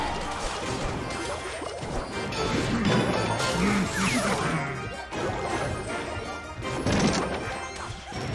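Fireball spell striking in a Clash Royale-style battle game, heavy crashing impacts and bursts over a busy mix of game effects and chimes, several loud hits spread across the stretch with no talk.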